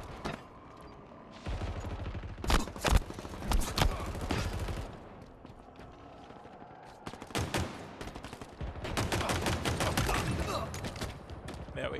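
Video game gunfire crackles in rapid bursts, with machine-gun volleys and single shots coming in loud clusters between quieter gaps, while players talk over the shooting.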